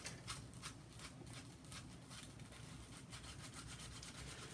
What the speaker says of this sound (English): support all the pieces of your model that you're sanding, because you don't want to break anything